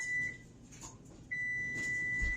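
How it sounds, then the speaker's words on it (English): Two sustained electronic beeps from an oven timer, one short and one longer, clear against a quiet kitchen background with faint low rumble. "my oven just beeped, so I just turned that off"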